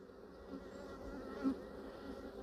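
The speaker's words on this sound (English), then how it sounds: "I can't believe that there's so many bees in here." Many honeybees hum in an opened hive, a steady, fairly faint droning buzz that holds throughout with a brief louder swell.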